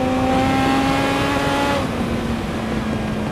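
A Kawasaki ZX-7R or Suzuki SRAD sport motorcycle with a slipping, failed clutch holds a high, strained engine note that drops partway through, then runs on at a lower steady pitch, loud and close without speech.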